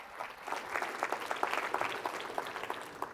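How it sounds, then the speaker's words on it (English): Audience applause greets a presenter walking onto a conference stage, steady clapping with scattered louder claps throughout, moderately distant and without speech. "Can we welcome Ryan to the stage?"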